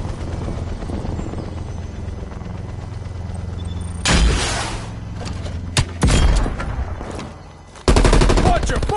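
A continuous rattle of automatic gunfire from the multiplayer shooter Call of Duty: Black Ops Cold War, joined by three loud, close bursts of heavier fire, with a faint voice underneath.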